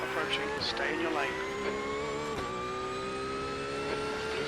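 Race car engine in the iRacing sim during an IMSA GT3 race, a steady droning whine with rising pitch as another car closes in, heard under a speaking voice.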